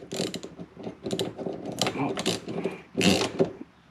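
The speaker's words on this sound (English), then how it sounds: "Then I'm going to take this 5/8 socket" A 5/8 socket wrench ratchets in short rapid clicking bursts while driving a puller on a Vexus AVX1980 boat's blinker trim, close and crisp with brief pauses between cranks.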